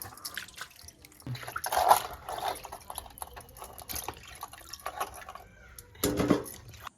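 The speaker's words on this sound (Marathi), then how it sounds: "सगळे आंबे मस्तपैकी स्वच्छ धुवून झाले आहेत" Ripe rayval mangoes being washed by hand in water in a home kitchen, with soft drips, splashes and sloshing that come and go, swelling into brief louder splashes near the start and end; no talk.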